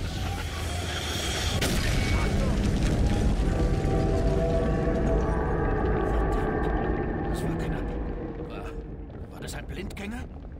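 A loud, deep explosion in the video game The Bureau: XCOM Declassified rumbles and roars, sustaining for several seconds before slowly fading into quieter mechanical clanks.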